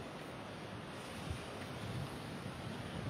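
Sea waves at San Pedro beach in Ivory Coast: a continuous, fairly loud wash of surf mixed with wind noise on the microphone, steady throughout with no voices.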